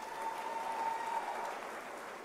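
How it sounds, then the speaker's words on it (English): Audience applause at a university academic-year closing ceremony, a steady dense wash of clapping held at even volume throughout, with a faint sustained tone running beneath it. "Can we give them a round of applause?"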